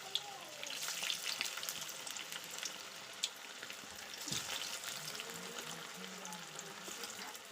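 Pitha fries in hot oil in a pan, a soft, steady sizzle with light crackling and an occasional clink, close by but fairly quiet, with no voices.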